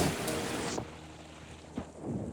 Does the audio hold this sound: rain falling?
yes